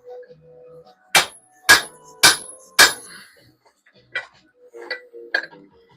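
Hammer blows on a metal punch in a workshop: four sharp, loud metallic strikes at a steady rhythm, then quieter taps and clinks as a voice talks softly.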